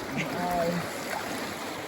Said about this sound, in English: Little white water.